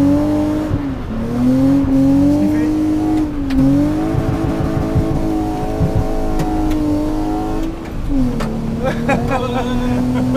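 BMW E36 325i drifting on a public street, its engine revving hard and holding a steady wavering note with brief throttle dips and surges, loud and near. Excited voices talk over the car throughout.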